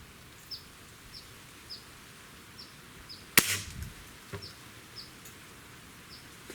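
A Browning Leverage .22 air rifle fires once, a sharp loud crack with a short rattling tail, amid a quiet background dotted with faint periodic chirps.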